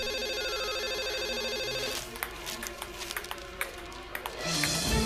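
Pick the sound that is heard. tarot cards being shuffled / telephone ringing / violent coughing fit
telephone ringing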